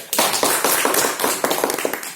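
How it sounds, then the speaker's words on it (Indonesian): Audience applause at a business presentation: dense, steady clapping from a crowd, fairly loud and continuous for about two seconds with no talking over it. "Berikan tepuk tangan."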